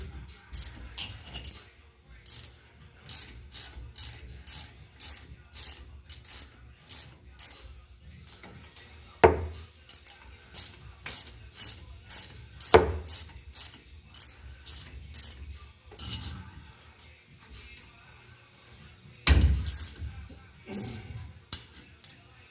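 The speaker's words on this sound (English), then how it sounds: "We have the Craftsman V series ratchet wrenches here." A Craftsman V series ratchet wrench works on the front pinion of a 2005 Ford F150, giving many quick, sharp repeated clicks in bursts with a few louder metallic clanks in between.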